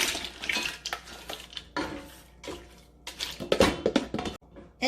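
Water poured into a gumbo pot holding chicken broth and shrimp and crab shells, a liquid splashing and clattering pour in several bursts with brief pauses, close and moderately loud.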